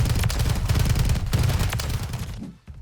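Rapid bursts of SCG gunfire in the video game Modern Warfare 3, loud close automatic shots rattling steadily before tapering off and cutting out near the end.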